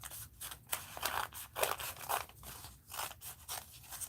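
Scissors snipping through folded paper to shape long daffodil leaves, a quiet, close series of crisp cuts and crunches in an uneven rhythm, with no talking.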